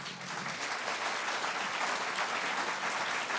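Audience at a book talk applauding, a dense sustained clatter of many hands that holds steady throughout, fairly close and full with no speech over it.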